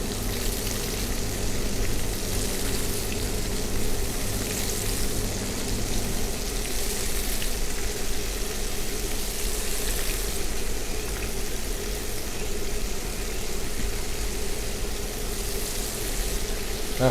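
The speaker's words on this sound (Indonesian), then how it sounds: "Saya langsung goreng biasa gitu aja." Shell-on shrimp frying in a hot pan, a steady, dense sizzle and crackle that runs unbroken and fairly loud throughout, with no voices over it.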